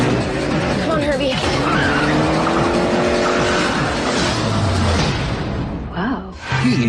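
Herbie the Volkswagen Beetle races with a loud, continuous engine roar and tire squeals close by, music and voices mixed over it, before a brief dip near the end.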